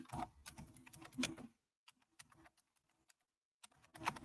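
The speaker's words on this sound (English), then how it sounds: "Oh, sorry, I'm typing." Bursts of computer keyboard typing, fairly close and moderately loud, with a quiet pause in the middle before a final flurry of keystrokes.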